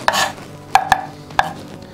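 A kitchen knife chops peeled garlic cloves finely on a board: a quick flurry of cuts at the start, then three or four sharp, close taps spaced apart, with no talking.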